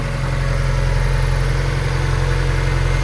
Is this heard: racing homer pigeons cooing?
no